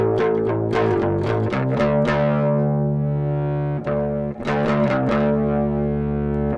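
A fuzz-distorted electric guitar plays loud chords and picked notes with a sustained ringing note in the middle and a brief pause before resuming.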